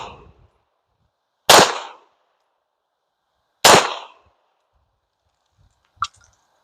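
A Canik Rival pistol fires defensive ammunition, including Hornady Critical Defense, outdoors. Two loud, sharp shots about two seconds apart each decay quickly, and a faint click follows.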